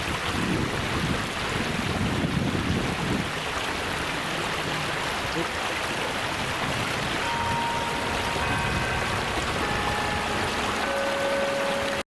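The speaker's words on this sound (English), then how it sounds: "Just so much water." Water gushes steadily from a karst spring among rocky outcrops in Cumberland County, Pennsylvania, a loud, constant broadband rush close to the recorder, with light wind buffeting the microphone.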